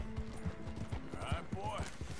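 A horse in the video game Red Dead Redemption 2 walks at an unhurried pace, its hooves clip-clopping in a steady rhythm close by while someone talks over it.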